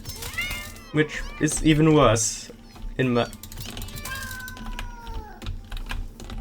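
Several cats in the video game Satisfactory meow and yowl in short, rising calls over rapid keyboard typing, with a person speaking briefly.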